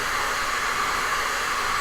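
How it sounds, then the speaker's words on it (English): A hair dryer blows steadily and loudly at close range, drying tacky acrylic paint on a canvas during a live painting demonstration, with a constant broadband whoosh and no speech. "I'll put the hairdryer right there."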